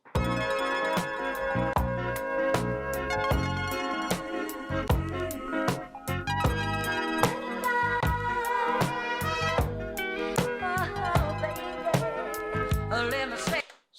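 Chopped soul music samples are triggered one after another on an MPC One Plus, a string of short, punchy musical fragments with abrupt starts and stops, played clearly and alone.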